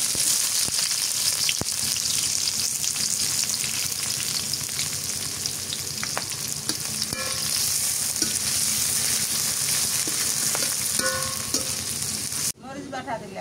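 Chopped onion sizzles hard in hot oil in a pan, a loud, continuous hiss with occasional stirring scrapes, with no voices, until it cuts off abruptly near the end.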